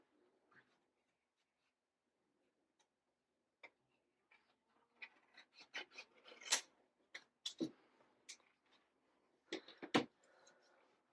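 Paper being cut and trimmed for a die-cut craft building piece, with scattered crisp snips and clicks that cluster into a busier run near the end, fairly close with no talking.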